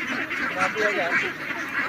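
Ducks on a duck farm by a wide wetland quack in a steady, overlapping flock chorus, with a voice in the background.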